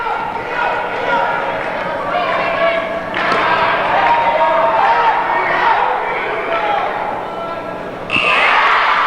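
At a high school girls' basketball semifinal between Beekmantown and Saranac, a loud buzzer cuts in near the end, over steady crowd noise and an announcer talking throughout.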